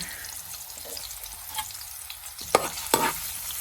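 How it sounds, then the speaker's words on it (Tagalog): Ginger sautéing in a pan, a soft steady sizzle with a couple of sharper scraping stirs near the end, close and fairly quiet, with no talk. "Lagyan natin ang ginger para umamoy."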